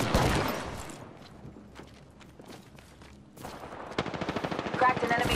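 Automatic gunfire in the video game Apex Legends, with bursts of rapid shots close up at the start, a quieter gap, then renewed rattling fire, with game voice callouts mixed in.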